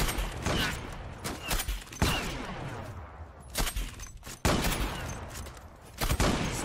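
Rapid bursts of gunfire ring out in the online shooter Zula, with repeated loud, close volleys that are separated by brief pauses and carry a faint echoing tail.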